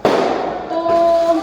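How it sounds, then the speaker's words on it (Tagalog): A burst of New Year firecrackers cracks sharply at the start, then leaves a crackling, hissing tail with a thin whistling tone, loud and close. "Paputok sila sa yun."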